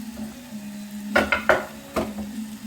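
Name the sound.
bacon sizzling as it goes into the pan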